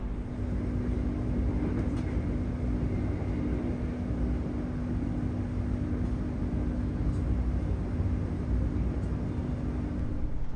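The Manahan passenger train at Jatinegara station, heard from onboard, makes a steady, loud rumble with a constant low hum that runs evenly throughout, with no voices.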